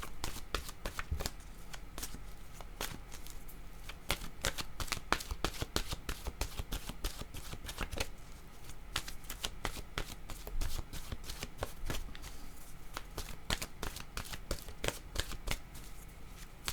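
A deck of oracle cards is shuffled continuously close up, giving rapid, crisp riffling and slapping bursts in an uneven rhythm.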